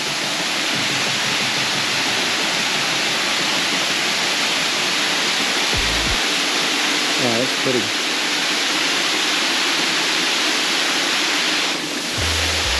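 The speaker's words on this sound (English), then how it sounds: "So we made it to the waterfall." A roaring waterfall at El Limón in Samaná, Dominican Republic, pours as a loud, steady broadband rush through the whole stretch, with people talking briefly over it and a few short knocks near the end.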